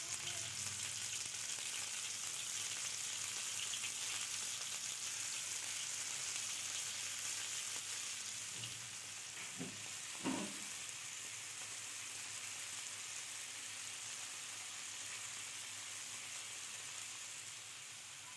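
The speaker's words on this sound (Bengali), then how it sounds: "তেল গরম হয়ে আসলে একে একে দিয়ে দেব সব কটি মাছ" Prawns and fish sizzle in hot mustard oil in a pan, a loud, continuous frying crackle, with a few brief knocks partway through before the sizzle settles slightly quieter.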